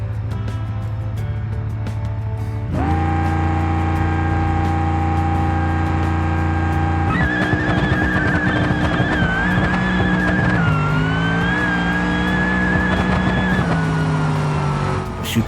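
Supercharged Gavril D-Series drag car in the BeamNG racing game makes a loud, sustained engine roar through a full pass, with clear step-ups in pitch at each gear change and a whining supercharger tone running throughout.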